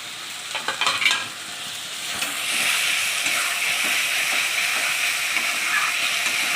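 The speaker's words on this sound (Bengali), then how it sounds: "এটা দিয়ে আরেকটু সময় ভেজে নেবো" Onion and spice paste frying in a pan for a Bengali loitta fish curry, opening with brief stirring scrapes before settling into a steady, close sizzle.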